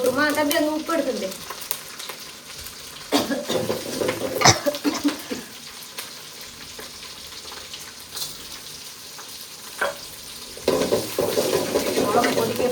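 Curry with onion, green chilli and salt being sautéed in a pan, with sizzling and frying alongside intermittent scraping and clattering stirring strokes; voices talk in the background.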